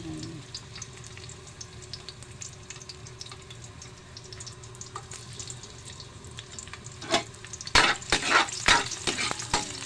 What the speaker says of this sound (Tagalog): Then ilagay na natin yung bawang.